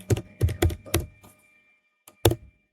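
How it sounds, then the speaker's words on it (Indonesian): Keys on a computer keyboard are pressed in a quick burst of about five clicky strokes, then a pause, then a couple more taps, close and moderately loud with no talking. "Lalu kita ketik enable di sini."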